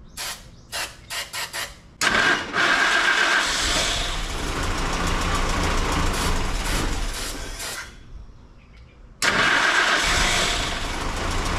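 A small engine cranks in a few short bursts, then catches and runs loud and steady, dips briefly near the end, then revs back up.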